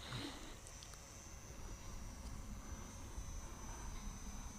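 Skynetic FW190D9 radio-controlled model plane flying outdoors on a windy, cold day, a faint, steady whine of the electric motor heard from a distance against wind noise.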